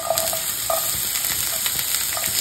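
Garlic sizzles in a hot pan for beef stroganoff, a steady close crackle with irregular brighter pops and faint scraping stirs throughout.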